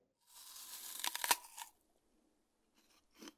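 A bite into an apple or similar fruit gives a crisp, close tearing crunch with a few sharp cracks, then silence and a brief faint crunch of chewing near the end.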